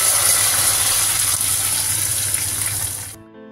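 Water pours into a pot of tomato rasam in a steady, loud rushing stream that fades slightly before cutting off abruptly near the end.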